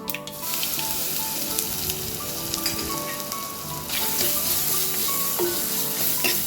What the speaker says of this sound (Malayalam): ചതച്ച് വെച്ചിരുന്നില്ലേ മസാലകൾ ജീരകം കുരുമുളക് വെളുത്തുള്ളി അതൊക്കെ അത് ഇട്ട് കൊടുക്കുക